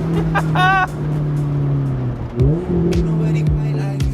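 A supercharged Lotus sports car engine rising and falling in pitch through a couple of revs, loud and close, with a short voice-like burst near the start.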